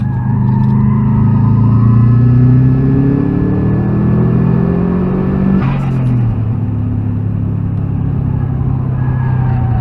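A car engine rumbles steadily and rises in pitch as it revs while driving, with a brief sharp noise midway.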